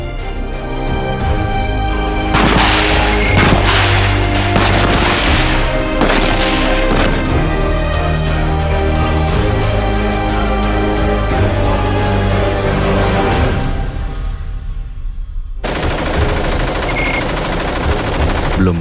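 Gunfire during police academy training: rapid bursts of automatic weapon fire and sharp individual shots, loud and close, crackling in dense clusters with brief pauses and a sudden burst near the end.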